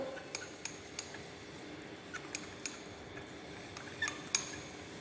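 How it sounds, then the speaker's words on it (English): Glass rod stirring a thick slurry of herbal extract and water, giving a run of light, sharp clinks and taps against the container at irregular intervals over a low steady background. "we will pour some water in it slowly, and will mix with the help of glass rod."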